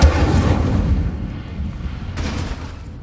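The Incendio fire spell cast in Hogwarts Legacy bursts out as a loud whooshing roar that fades over a couple of seconds, then a second rushing burst flares up near the end.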